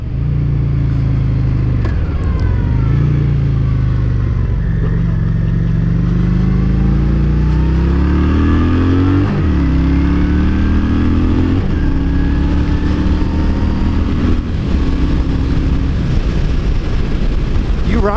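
A Honda Shadow 750cc motorcycle out on a ride, its engine rumbling loud and close for the whole stretch, pitch rising and falling through repeated gear shifts over steady wind noise.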